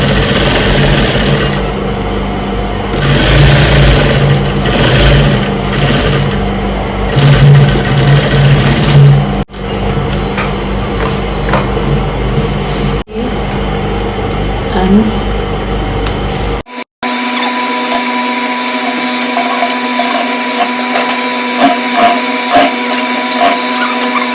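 A sewing machine runs steadily while stitching the lining of bridal aso oke fabric. The hum is close and continuous for about seventeen seconds, then gives way to a quieter, thinner room tone.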